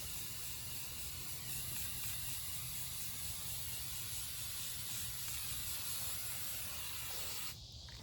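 Gray plastic primer hisses from a spray can onto a pumpkin nutcracker figure in a continuous close spray that cuts off abruptly near the end.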